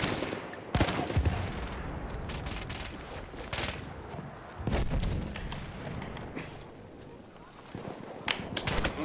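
Gunfire rings out in the Battlefield 1 video game: sharp shots and bursts crack irregularly through a busy battle din, some loud and close, with talking over it.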